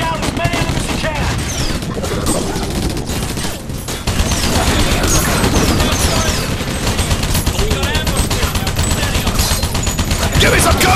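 A Humvee-mounted turret machine gun from Battle: Los Angeles rattles in long, loud, continuous bursts close up, with crashes and battle noise around it.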